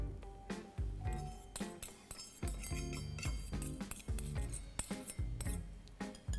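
Eggs and vegetable oil for a chocolate cake are whisked together in a bowl, giving rapid, close clinking strokes against the bowl in an uneven, busy rhythm with no talking.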